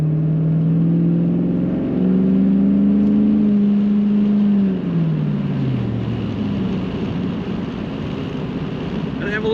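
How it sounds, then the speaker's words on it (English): A 2002 Chevrolet Camaro Z28 convertible with an automatic transmission drives along, its V8 engine and exhaust droning loudly and rising in pitch through a gear change, then settling into a rumble under wind noise. "This car's got a little throat to the exhaust."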